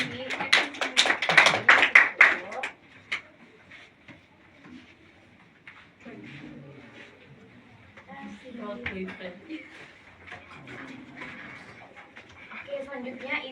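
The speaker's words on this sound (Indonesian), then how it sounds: "Boleh tepuk tangan buat teman-teman yang udah berinteraksi." A class claps in applause, a dense burst of hand claps up front that fades within a few seconds, followed by quieter room sounds and a teacher's voice talking.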